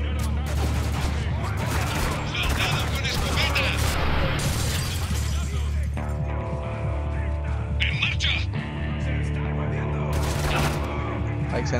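M4 rifle gunfire in Spec Ops: The Line, loud rapid bursts of shots rattling almost continuously over combat noise, with a voice talking through parts of it.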